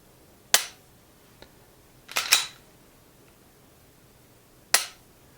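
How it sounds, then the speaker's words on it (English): Glock pistol trigger pulled through spongy take-up to its break, heard as three sharp, isolated clicks spaced apart, close and clear against quiet. "A lot of take up, a little bit on the spongy side, and then finally we get a break."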